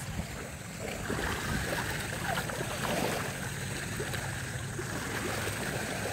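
Strong waves churn and rush around a boat out on the water, a continuous broad wash of surf and wind noise at moderate, steady loudness with no talk.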